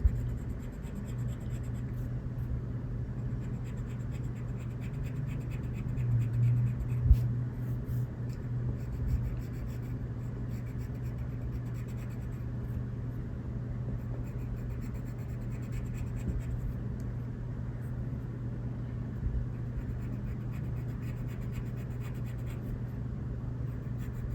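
A colored pencil is pressed heavily on paper to outline an alligator's mouth, giving a soft, steady scratchy scraping that runs continuously and quietly under a low background hum.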